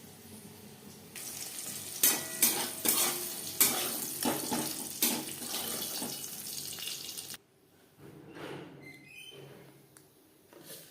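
Halved pointed gourd (potol), peeled and cut, sizzles in oil in a kadai. There is a steady crackle with stirring scrapes, and it settles to a softer, patchier sizzle toward the end.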